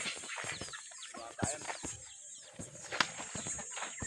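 Rhode Island hens and chicks on a farm give repeated clucks and high peeping chirps, close and busy, with brief wing flaps mixed in.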